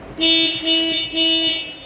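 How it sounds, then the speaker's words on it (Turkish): Three long car horn blasts from an Opel Astra H, loud and close, separated by short pauses, with a steady low background hum. "Tekrar basalım kornaya"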